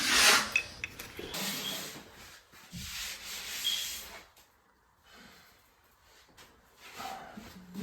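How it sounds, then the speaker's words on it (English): Hand sanding on wood, rough scratchy strokes in uneven bursts with short pauses between them, close and fairly quiet. "Dad is sanding it up"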